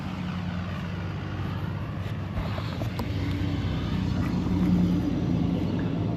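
An old Ford F100 truck engine idles and revs through an old-school exhaust, running for the first time in a long time after a clogged exhaust was cleared, a steady loud drone that swells slightly toward the end.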